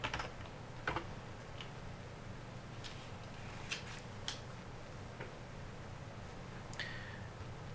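Keystrokes on a computer keyboard while renaming a spreadsheet tab, sparse scattered clicks over a steady hiss of room noise, fairly faint and close, with no voices.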